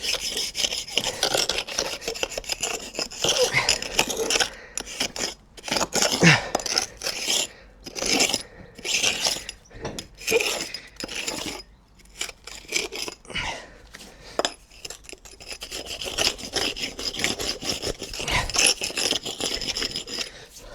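A brick hammer raking out old patio paving pointing down to a sandy sub base gives continuous gritty scraping and rasping, with steady, close strokes and brief pauses over twenty seconds.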